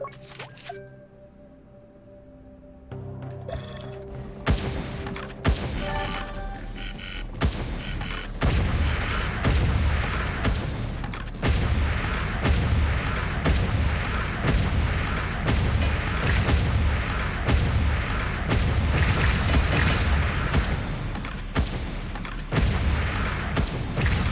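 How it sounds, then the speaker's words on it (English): Dense rapid bursts of small explosions from scattering sub-munitions in the video game Wall World, crackling and booming continuously over a steady roar after a quiet start. "Scatters sub-munitions on explosion."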